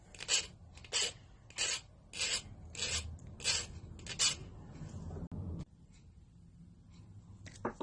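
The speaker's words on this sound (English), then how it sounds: "You can hold them both together and use your file." A metal file rasps across the ends of brass ear wires in seven quick, even strokes at close range, followed by a short scrape and a quieter pause.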